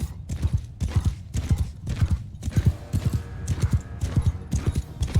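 Cavalry horses gallop in Mount and Blade II Bannerlord, with dense, rapid hoofbeats thudding close and loud in a steady driving rhythm for the whole stretch.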